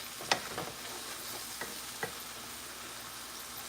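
A spoon stirs clams and mussels with pasta and vegetables in a pot, making a few sharp clinks and scrapes against the metal over a soft, continuous simmering hiss.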